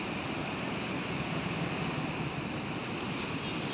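Fast-flowing water released through the Ganga Barrage at Narora rushes in a steady, dense roar that stays even and unbroken throughout.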